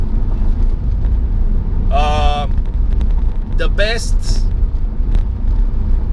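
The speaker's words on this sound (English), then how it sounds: "Traffic is getting busy." Steady road rumble of busy New York City traffic heard from inside a moving car, a continuous low drone with a man's brief speech over it.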